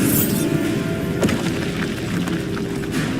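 Bombarda spell explosion in a video game, a loud booming blast with a sharp thud near the middle, set in a dense, continuous wash of game noise.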